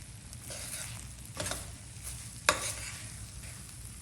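A spoon stirs roasted cashews and raisins into sweet moong chundal in a pan over a faint steady sizzle, with a few soft scraping strokes and one sharp clink against the pan.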